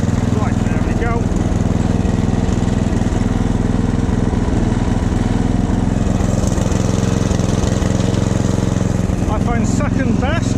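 A Snapper lawn mower engine, already warm from being driven, runs at a steady close-up idle throughout, with speech over it.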